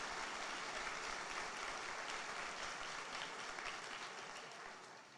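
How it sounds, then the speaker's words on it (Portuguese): A church congregation applauds in a steady wash of clapping that stays dense and fairly distant, fading slightly toward the end, with no voices standing out. "Pode aplaudir, vai aplaudir, aplauda o Senhor mesmo"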